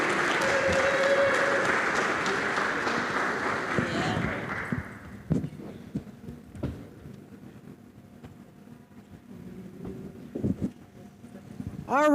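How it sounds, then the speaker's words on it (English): Crowd applause at a blockchain and cryptocurrency summit, a broad wash of clapping that fades out after about five seconds into quieter room sound with scattered knocks and a voice. "Can we give them a round of applause?"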